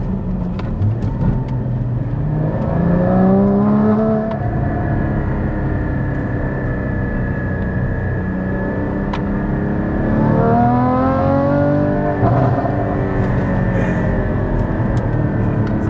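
A Porsche Cayman GT4 or Lotus Evora GT sports car drives at moderate pace, its engine note rising through the revs in two distinct pulls, heard steadily from close by without talk.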